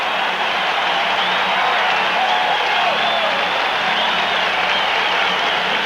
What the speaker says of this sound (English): the Kansas City Chief defense has this crowd fired up.